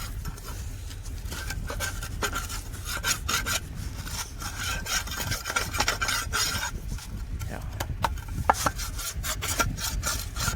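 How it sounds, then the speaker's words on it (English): Scraping dirt out from under a tire, a steady gritty rasp made of repeated strokes, close and fairly loud, with no talking. "So we're just trying to scrape out all this dirt."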